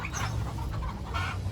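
Chickens on a poultry farm in Bagamoyo, both improved and local breeds, cluck in a dense, continuous, close-up din over a low rumble.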